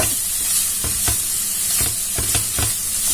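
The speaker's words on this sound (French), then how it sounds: "Je vais bien faire revenir tout ça." Vegetables for a gratin sauté in a pan, giving a constant loud sizzle with several scraping strokes of a utensil stirring through them.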